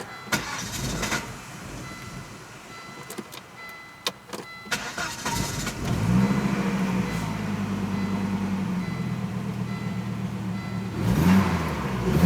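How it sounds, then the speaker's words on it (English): A Volvo 850 GLT with starting and running trouble cranks with a few clicks, catches, and settles into a steady idle, then revs up briefly near the end. The sound is close and fairly clear. "try to restart it, it usually starts a little quicker"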